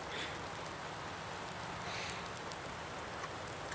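Steady rain hissing across the whole clip, a dense broadband patter with no voices, constant and fairly close.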